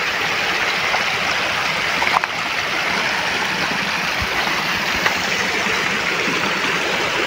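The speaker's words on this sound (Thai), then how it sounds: "ถือว่าตรงนี้เหมือนเป็นน้ำตกเลยเป็นชั้นเลย" Steady rushing water of a stream cascading over rock steps, a continuous broad roar without a break, close and loud.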